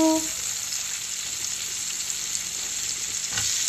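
Tomato pieces hitting hot oil in a pan where marinated hilsa fish is cooking, giving a steady, close sizzle and frying hiss that runs throughout with faint stirring and no talking.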